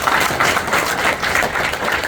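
An audience at a company gathering claps steadily, dense applause that stays loud and even for the whole short stretch.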